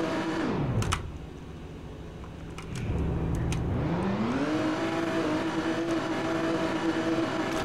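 A car in the Roblox game Liberty County starts and revs, its engine pitch dropping and then rising through several rev cycles before settling into a steady, fairly loud drone, with brief clicks and no talk.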